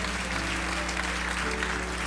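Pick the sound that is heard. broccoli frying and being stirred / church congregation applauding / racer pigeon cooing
church congregation applauding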